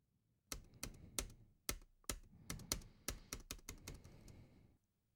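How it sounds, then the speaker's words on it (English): Keys on a computer keyboard are pressed at an irregular pace, giving close, crisp clicks in short clusters, about fifteen taps in all. "if I want to see more, I hit the space key"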